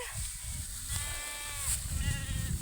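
Faint bleating calls rise over a noisy outdoor background, a couple of wavering cries from young goats at a distance.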